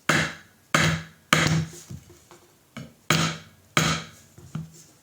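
Sharp metal-on-wood taps from a brass fret tool with a notched tip, hammering a fret into a headless Solar 7-string guitar neck. Six distinct strikes land at an uneven pace, close and fairly loud, with no one talking.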